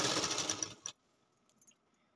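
A sewing machine runs briefly while stitching a katori blouse, a close, busy mechanical whirr that stops abruptly, followed by a few soft handling clicks in near silence.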